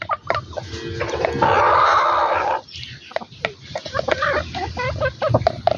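Native hill rooster and chickens of a local desi breed, with a loud sustained crow from the rooster in the middle, surrounded by scattered clucks and farmyard noise nearby.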